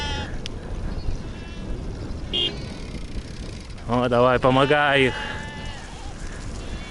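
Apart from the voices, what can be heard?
sheep and goats bleating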